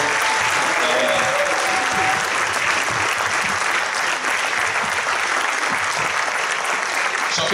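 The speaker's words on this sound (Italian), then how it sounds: "un grande applauso per Fabio Cianchetti, il direttore della fot" Loud, sustained applause from an indoor audience at a film Q&A, dense and steady clapping throughout with a faint murmur of voices underneath.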